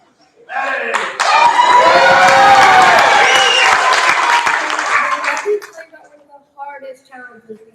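Loud applause and cheering from a crowd at a school board meeting, swelling quickly into sustained clapping for several seconds before tapering off, with scattered voices afterward.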